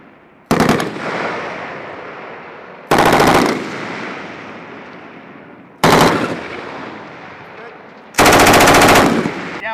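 Marines firing an M2 Browning or M240 machine gun on a range: four loud, close bursts of rapid automatic fire, each cut off sharply and followed by a decaying echo, with gaps of a couple of seconds between bursts.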